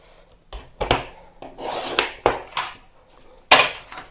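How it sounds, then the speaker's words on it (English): A compact paper trimmer slicing card stock, heard as several short close swishing rasps and clicks spaced irregularly over a few seconds, with no talking. "This trimmer is so easy to use, lightweight, compactable, and it just gets the job done."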